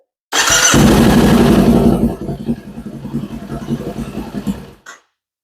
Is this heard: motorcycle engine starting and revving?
yes